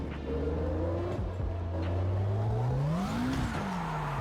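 An engine revs and tires squeal as a car spins out in a racing video game played on a Moza R5 wheel, a loud close motor tone climbing and bending in pitch, with no talking.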